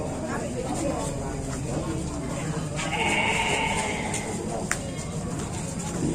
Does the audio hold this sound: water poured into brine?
no